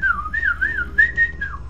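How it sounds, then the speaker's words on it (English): A lone person whistles a freestyle jazz tune, a clear, close melodic line that slides and wavers up and down in short phrases with brief gaps, and no talking. "Jazz whistling"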